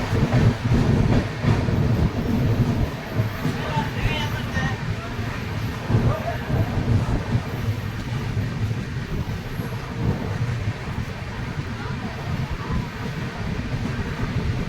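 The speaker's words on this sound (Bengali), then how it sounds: "ট্রেন ধীরে ধীরে শ্রীকাকুলাম রোড স্কিপ করছে" The Digha-Visakhapatnam Express rolls slowly through Srikakulam Road station without stopping: a steady, close rumble of wheels and carriage noise that holds on throughout.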